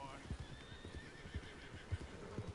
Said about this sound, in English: Whose horses are these?